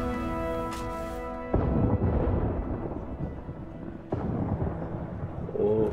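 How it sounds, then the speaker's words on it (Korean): Thunder cracks and rumbles in the video game Destiny, with two sudden loud booms that each roll off into a long fading rumble after a sustained musical tone. "번개치고"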